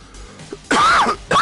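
A single close, rough cough with a throaty clearing quality, followed by the start of another, loud and with no talking around it.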